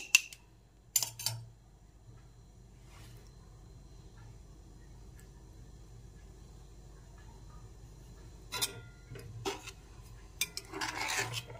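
A spoon clinks and scrapes against a pot while stirring yogurt into potato curry, in a few sharp bursts at the start and a clustered run of scraping strokes near the end, with quiet in between.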